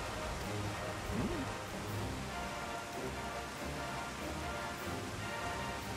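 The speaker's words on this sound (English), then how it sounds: "I wonder if the rain is programmed into be raining right now, or if that's just an effect of the current weather." Steady rainfall in the video game Final Fantasy XIV, a soft continuous patter of drops hissing evenly throughout with no other sounds standing out.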